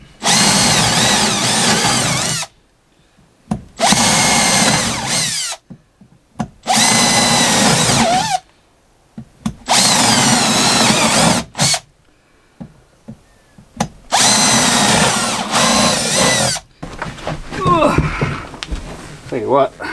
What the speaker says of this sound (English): we're going to stitch drill him and just clean it up after